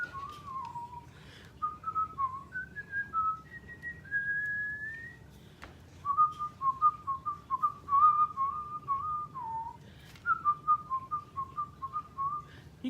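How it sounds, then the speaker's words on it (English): Someone whistles a wandering melody alone, clear and close, in several phrases of held and sliding notes separated by short breaths, with a quiet room hum beneath. "I really enjoy whistling"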